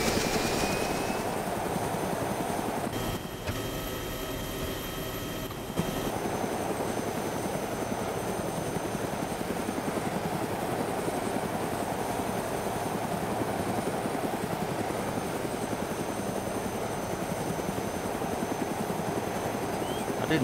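A biplane engine drones steadily and loudly in the DayZ video game, a continuous propeller hum that holds for about twenty seconds with a brief change in tone partway through.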